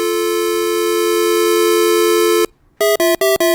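A telephone network simulator game plays a loud steady dial tone for about two and a half seconds. After a brief silence comes a rapid run of five short, evenly spaced dialing beeps.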